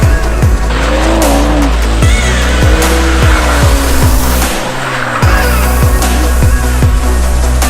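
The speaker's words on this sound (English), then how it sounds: "Okay, let's try to do some drifting." A 2018 Mercedes-AMG C43 coupe drifts at a track day at Laguna Seca, its engine roaring steadily up close while the tires squeal and skid in repeated long howls under loud wind rush, with no voices.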